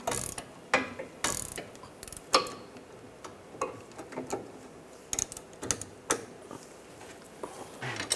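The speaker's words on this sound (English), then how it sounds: "Tighten the nut down." A ratchet wrench tightens the nut on a BMW 328i xDrive front sway bar link, giving off sharp, irregular bursts of close mechanical clicks and ticks with short pauses between strokes.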